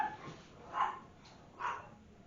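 A dog outdoors gives two short, muffled barks with a whimpering edge, spaced about a second apart and heard faintly from a distance with no talking.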